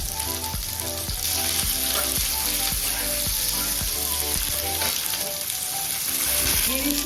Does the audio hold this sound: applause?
no